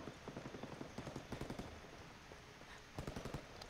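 Video game gunfire in Ghost Recon Wildlands comes as quiet, rapid bursts of automatic shots in several clusters, with gaps between the volleys and a faint rain-like background.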